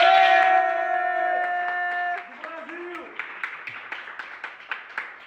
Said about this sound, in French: des applaudissements quand même pour lui.